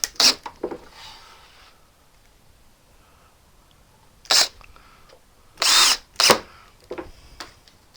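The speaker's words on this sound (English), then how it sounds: "So put the screws in from underneath, and put one about every 12 inches or so" A power drill drives screws up into plywood from underneath while a miter saw track table is assembled, with several short, loud bursts of whirring separated by quiet gaps.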